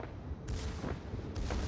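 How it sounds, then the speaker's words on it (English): Naval shells strike and bounce off a battleship's armored belt in a Scharnhorst match of a warship video game, producing two sharp, loud impacts over a continuous rumbling battle bed. "He shoots my armored belt, and all of his shots bounce as expected."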